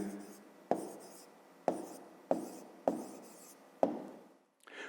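Pen strokes on paper while working a fifth-grade math exercise on speed, in a quiet room: five separate scratching strokes, each starting with a sharp tap and then fading, spaced about a second apart.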